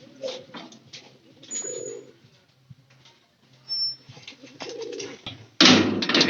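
Pigeons coo in a coop that holds chicks, a few soft cooing bursts spread through the clip and a louder, fuller stretch at the end.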